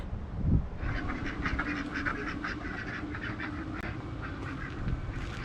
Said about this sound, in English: Duckies.